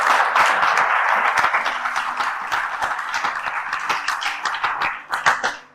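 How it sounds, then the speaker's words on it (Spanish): A church congregation claps together in a burst of applause, many hands beating in a fast, dense patter that thins into a few looser, scattered claps by the end. "Den un aplauso bien fuerte a Jesucristo en Nazaret."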